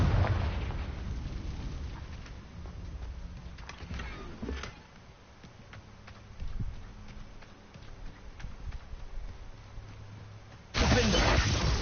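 A Confringo blasting curse detonates in Hogwarts Legacy, with rumbling explosive bursts and crackling debris, then a sudden loud roaring burst near the end amid game ambience.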